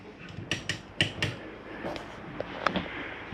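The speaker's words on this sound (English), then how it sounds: "You have a hand crank open vent here" A hand-crank open vent in a Flagstaff 832IKSB camper being worked, giving a series of close, uneven mechanical clicks and clunks with small gaps between them.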